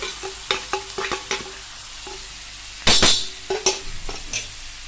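Ground wet red chilli paste with cumin hits hot oil in a tempering, giving a burst of loud sizzling amid repeated clinks and scrapes of a spoon stirring in the pan.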